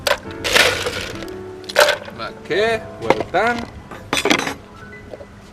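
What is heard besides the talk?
ice cubes dropped into a glass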